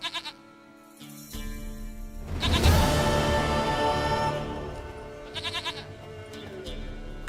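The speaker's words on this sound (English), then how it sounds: "Goat of mine, dearest, sweetest goat" A goat in Witcher 3 lets out a long, loud, wavering bleat up close, framed by shorter nasal bleats before and after.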